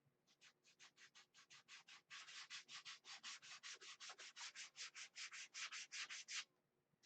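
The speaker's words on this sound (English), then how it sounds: "I'm sanding with 320." Steady back-and-forth sanding strokes with fine 320-grit sandpaper, about thirty rhythmic scratchy rubs, close and quiet, no voices.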